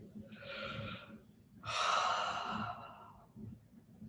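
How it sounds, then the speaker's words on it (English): Slow, deep yoga breaths, heard close and quiet: one soft exhale, then a longer, fuller sighing breath out, with faint breathing afterward. "We take 5 breaths."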